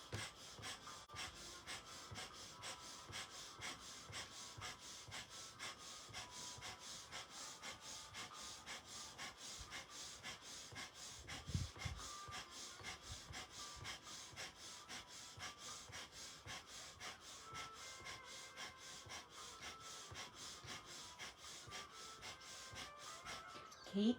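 Rapid Breath of Fire yoga breathing, a continuous stream of quick, forceful nasal exhalations pumping in an even rhythm, close and steady with no pauses.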